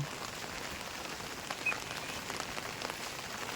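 Rain falling outdoors in a Konkan village during a wet monsoon day, an even, steady patter across the whole stretch, moderately quiet, with no voices over it.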